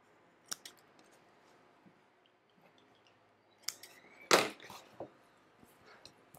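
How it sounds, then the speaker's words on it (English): Scissors snipping loose thread ends on sewn fabric during a beginner grocery cart cover project, a few quiet isolated clicks followed by a louder sharp cut and soft handling noise, close up with no talking. "Now we're just going to trim those strings."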